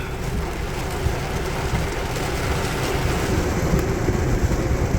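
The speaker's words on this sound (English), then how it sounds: "All that water just pouring down." Heavy rain pours down in a microburst storm, a loud and dense steady roar of water hitting surfaces that holds unbroken throughout with no voices.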